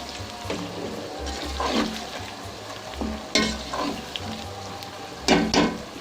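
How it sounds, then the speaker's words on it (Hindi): Tomatoes cook in oil in a pan for a Bombay-style chicken biryani, giving a soft, close sizzle broken by several bursts of stirring and scraping, with no one talking. "टमाटर को सिर्फ 2 मिनट तक मैं पकाऊंगी।"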